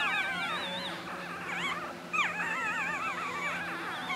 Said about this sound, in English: here are Lola and Nico's puppies